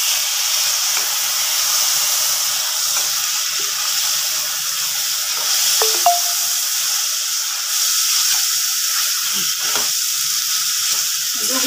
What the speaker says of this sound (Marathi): आता आपल्याला याच्यामध्ये टमाटर ॲड करायचं